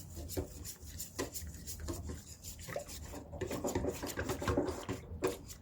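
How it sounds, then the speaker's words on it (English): A whisk beating sourdough starter into water in a bowl, with rapid, irregular scraping and sloshing strokes against the bowl, close up and alone. "start mixing the starter into the water"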